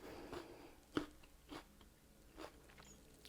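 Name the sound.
chewing raw turmeric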